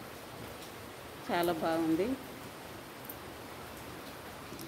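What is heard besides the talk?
rain falling outside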